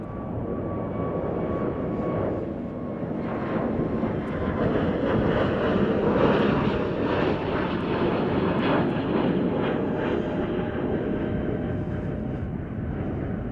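A Spirit Airlines jet departing Chicago O'Hare International Airport gives off a strong, sustained engine roar that swells toward the middle and stays loud as it passes, with no voices over it.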